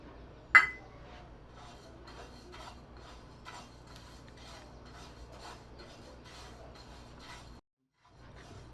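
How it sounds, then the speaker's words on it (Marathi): Sesame seeds dry-roasting in a pan on a low gas flame in a home kitchen, with a sharp metallic clink at the start followed by soft, steady scraping and stirring strokes, faint and close, and a brief pause near the end. "याच्यातच आता हे तीळ पण भाजून घेते मी"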